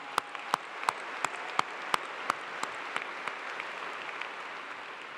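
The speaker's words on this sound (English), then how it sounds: "That deserves a round of applause." Faint, distant applause from a commencement crowd at Clemson, a soft bed of clapping with a few sharper, regularly spaced claps standing out near the front.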